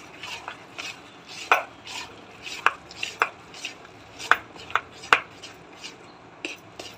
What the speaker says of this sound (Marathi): आता छान प्रकारे मिक्स करून घेऊ।